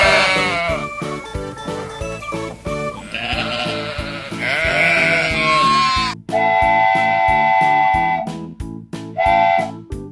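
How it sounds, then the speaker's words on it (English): A sheep bleats against a steady, rhythmic music backing that plays throughout, with the animal's calls blending into the loud beat. "This is sheep."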